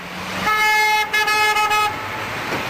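A car horn blares in a sustained honk, then a few short choppy toots, over a low background of city traffic on Avenida Paulista in São Paulo.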